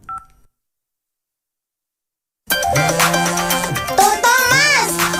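Telephone dialing tones from a children's cartoon: a brief beep, a long silence, then a run of bright DTMF key tones over background music, with a voice chiming in near the end.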